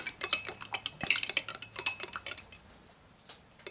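A spoon stirring an MRE chicken and rice meal in its pouch or tray, giving quick, light, rhythmic ticking scrapes that are close and soft and fade toward the end, with no speech.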